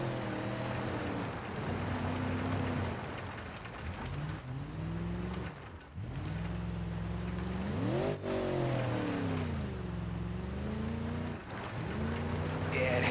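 A truck engine in BeamNG.drive lugs at low RPM, a deep droning growl that rises and dips in pitch as it strains through a rough corner, with steady loud rumble throughout.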